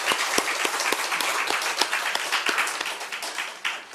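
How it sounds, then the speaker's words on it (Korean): A church congregation applauds steadily, many hands clapping in a dense, sustained burst that holds for several seconds before thinning slightly at the end. "환영하는 박수 한번 치우시죠"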